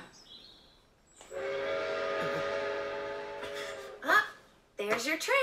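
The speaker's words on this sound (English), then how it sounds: "there's your train" A train from an anime passes with a sustained steady whistle-like tone for a few seconds, followed by voices talking over the fading sound.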